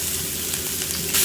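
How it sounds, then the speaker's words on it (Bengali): Chopped garlic and ginger sizzle steadily in hot oil in a hotel kitchen pan, a dense, loud, continuous frying hiss with faint stirring scrapes and no voices. "ফার্স্টে অয়েল, হালকা গার্লিক চপ, হালকা আদা চপ, এটা একটু নাড়িয়ে নেবো ভালো করে।"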